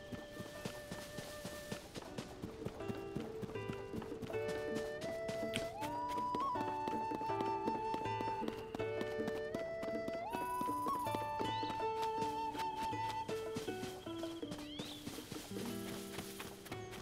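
Horse hooves clip-clop in The Legend of Zelda: Tears of the Kingdom as the horse walks and trots, sounding at a moderate level beneath prominent melodic game music.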